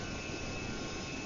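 Airbus A318 jet engines in the GeoFS flight simulator game at high altitude with lowered throttle, a steady, even roar with a thin whine, flat and unbroken through the brief moment.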